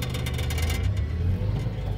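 An automatic-transmission truck pulls away in first gear as the accelerator is pressed, its engine rising into a loud, close, rumbling rev with heavy low-end throb.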